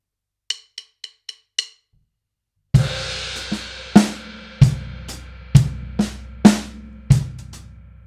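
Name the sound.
drum kit groove with hi-hat, bass drum and ghosted snare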